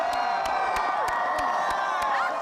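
A crowd gathered outside a newly built family home in Oklahoma cheers and whoops, a loud sustained roar of voices with some sharp rhythmic knocks cutting through.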